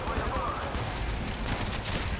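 Dense, continuous barrage of explosive blasts and rumbling booms from mortar fire in the video game Call of Duty Black Ops Declassified, loud and sustained with a cluttered wash of gunfire underneath and no clear pauses.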